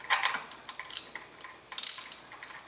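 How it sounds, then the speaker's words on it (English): Screws being tightened during a Kawasaki 1600 motorcycle engine build, a quiet series of metallic ratcheting clicks and small tool rattles, irregular and close, with no talking. "nobody cares to watch you tighten up more and more screws."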